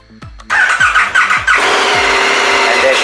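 A 2021 KTM 1290 Super Adventure S motorcycle starting: a few short whirring starter cranks, then the engine catches and settles into a loud, steady idle, close by.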